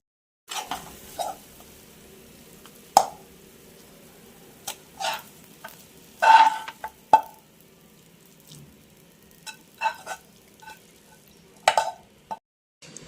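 Grated coconut burfi mixture is stirred in a pan, giving quiet scraping strokes and soft sticky clicks of a spoon, in irregular bursts with pauses between them.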